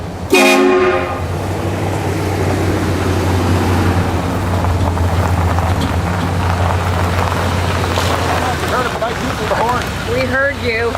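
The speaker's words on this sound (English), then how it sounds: "So you heard me tootle the horn?" A vehicle horn gives one short toot at the start, setting out to pick up a tractor, followed by a steady engine hum with voices talking near the end.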